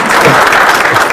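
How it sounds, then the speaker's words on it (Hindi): Audience clapping at a public talk in Hyderabad, a loud, dense and continuous burst of applause filling the whole moment. "ताली बजा दो इनके लिए"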